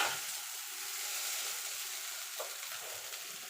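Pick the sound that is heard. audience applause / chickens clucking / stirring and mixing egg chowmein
stirring and mixing egg chowmein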